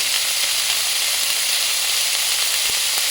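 Thinly sliced onions fry in a pan with a loud, even, close sizzle that hisses without pause, broken only by a couple of faint soft knocks near the end.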